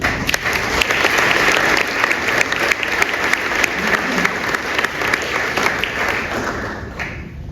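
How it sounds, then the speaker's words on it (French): Sustained loud applause from a seated audience at a book prize event in France, dense steady clapping that continues for several seconds before tapering off at the end. "on peut bien sûr les applaudir"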